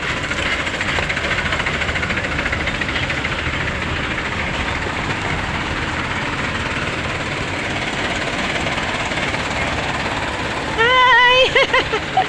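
Dense steady engine rumble from parked jeepneys idling near a market, a continuous loud mechanical drone throughout, with a brief higher voice-like sound breaking through near the end.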